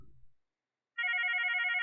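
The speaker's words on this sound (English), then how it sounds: "answer a call ringing at an extension that is not in your call pickup group" A Mitel 5330 IP desk phone rings with a steady electronic warble that starts after a short quiet gap and carries on loud and close, following a brief low rumble at the start.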